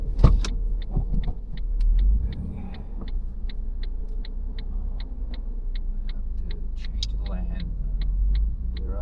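Ford Mondeo III ST220 engine accelerating on a road drive, a steady low rumble from inside the cabin with a regular ticking running throughout, under brief talk.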